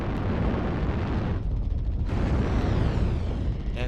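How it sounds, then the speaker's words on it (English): Machine guns firing in MechWarrior Online: a dense, continuous roar of rapid gunfire and explosive blasts fills the clip at steady high loudness, without talking. "Those machine guns are just tearing One Last Bite to shreds"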